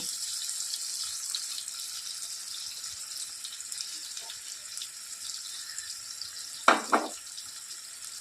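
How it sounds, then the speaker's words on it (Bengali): Water from rinsing a bowl goes into a pan of simmering pabda fish jhal that holds fried fish, bringing a short splashy pour near the end over a steady background hiss. "আর একটু বাটি ধোয়া জলটা দিয়ে দেবো।"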